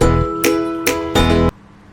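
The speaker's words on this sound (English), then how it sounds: "Then we blend this." Kitchen blender whirring through beetroot and water in three loud pulsed bursts with a high motor whine, each stopping abruptly, before falling quiet at the end.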